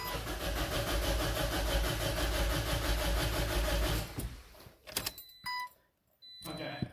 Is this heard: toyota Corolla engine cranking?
yes